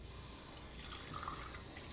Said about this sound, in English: Let's get some water for the green tea.